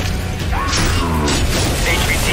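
A C4 charge detonating in a Call of Duty Outbreak trailer, a loud booming blast with mechanical clatter layered into a dense, continuous action soundscape.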